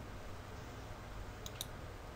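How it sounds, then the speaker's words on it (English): A computer mouse gives two quick, faint clicks in close succession while stock recovery is flashed for a Samsung Galaxy Note 2, heard over a low, steady room hum. "Click open and then click start."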